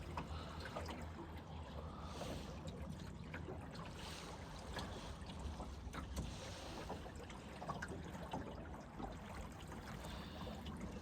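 Sailboat cruising on the water at Rutland, with soft water lapping and trickling against the hull over a quiet, steady background, faint and calm throughout with no voices.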